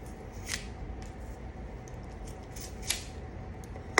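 Wire stripper snipping through a wire, a couple of sharp clicks and snaps over a soft background hiss, with a final louder cut at the end.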